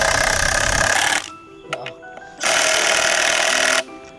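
A power tool drives screws into wood in two long, loud, steady whirring bursts separated by a short pause with faint clicks, heard up close.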